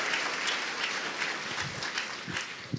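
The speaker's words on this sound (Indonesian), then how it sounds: "kita berikan aplaus untuk yang hadir semua" Audience applause at a talk-show taping: a dense, continuous wash of many hands clapping, steady and moderately loud for under three seconds.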